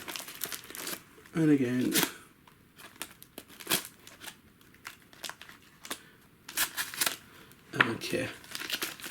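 Plastic packaging around 1/10 scale RC on-road car wheels being cut and handled, giving sharp crinkles and snips in short bursts between a man's brief speech.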